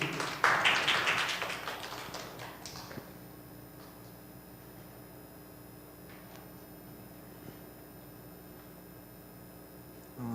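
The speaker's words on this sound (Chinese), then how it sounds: "首先第一位我们要请这个廖伯成同学来跟我们来分享见证，我们拍手来欢迎" Brief applause from an audience at a church youth service, a burst of clapping over the first few seconds that fades into a quiet room.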